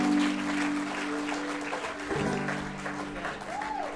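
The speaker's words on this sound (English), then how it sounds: "Give yourselves a round of applause." An audience claps in a brief burst of applause after a live performance, dense and steady then tapering, with a voice and a held musical tone underneath.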